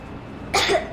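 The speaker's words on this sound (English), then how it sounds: "I have this cough." Young girl character coughing in the video game Metro Exodus, one harsh close cough bursting out of a quiet background, with the start of a second cough at the very end.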